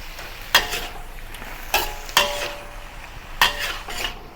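Prawns and noodles are stir-fried in a pan, a soft sizzle underneath sharp scrapes and clanks of a utensil on metal that come in several separate strokes.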